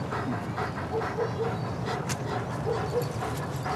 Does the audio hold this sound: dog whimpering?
yes